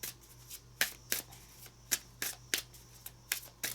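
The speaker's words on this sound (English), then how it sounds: "Doing the pre-shuffle" Tarot cards are shuffled by hand in quick riffling bursts, about ten crisp flutters spaced roughly every third of a second, close and quiet over a faint steady hum, with no voices.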